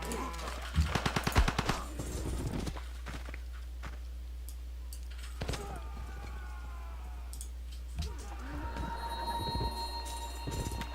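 Rapid automatic gunfire from Gatling guns in the strategy game Civilization V, a dense rattling burst early on followed by scattered shots over a low game hum.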